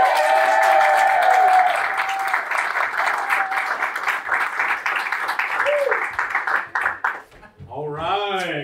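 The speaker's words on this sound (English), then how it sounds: "Please give us a round of applause for our musical guest" A live audience at a comedy show claps for a musical guest, loud sustained applause for about seven seconds with a voice briefly over it, fading out as a person starts talking.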